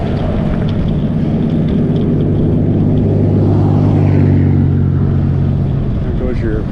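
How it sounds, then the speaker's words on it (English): A Ram pickup on bigger tires with a custom exhaust passes along a bike path, a deep engine drone that swells and fades under steady wind and close talking. "There goes your Ram pickup with a little bigger tires, probably custom exhaust to make it sound"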